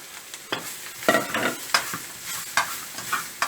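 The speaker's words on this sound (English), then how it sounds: "fry the onions till they become translucent" Sliced garlic and onions sizzle in a pan while being stirred, with repeated scraping strokes every half second or so over a soft, continuous fry.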